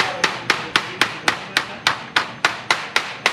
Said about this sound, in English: I call it smacking it with a hammer. One tap at a time.